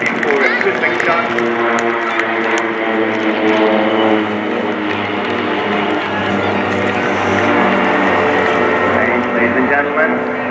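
A Pilatus PC-7 propeller trainer from the Swiss Air Force PC-7 Team flies past in landing configuration, a steady droning engine and propeller hum running throughout beneath continuous announcer commentary.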